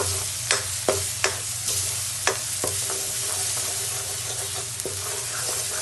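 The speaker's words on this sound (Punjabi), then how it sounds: "ਹੁਣ ਆਪਾਂ ਇਹਨੂੰ ਵਿੱਚ ਮਿਕਸ ਕਰ ਦੇਵਾਂਗੇ" Red chilli, turmeric and garam masala are stirred into a sizzling mixture in a pan for a Punjabi besan pakora curry, with a steady fry hiss and sharp spoon clacks against the pan at irregular intervals.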